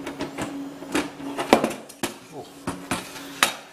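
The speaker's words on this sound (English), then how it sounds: "If I can just get this panel off." A side panel is worked off a Bitfenix Prodigy mini-ITX PC case with a series of sharp plastic and metal clicks and knocks, close and fairly quiet, while someone talks over them.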